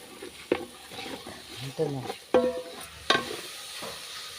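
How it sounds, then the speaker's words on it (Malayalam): Tomatoes are stirred in a hot pan for chicken biryani, with a spoon knocking and scraping in uneven strokes over a low sizzle, and a voice is briefly heard in between. "തക്കാളി ഇട്ട് ഞാൻ ഇളക്കാണ് കേട്ടോ"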